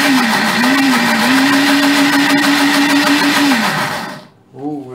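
A blender runs loud and continuous mixing a batter of raw rice, oil, sugar and grated cheese for a rice cake, its motor droning steadily before cutting off near the end.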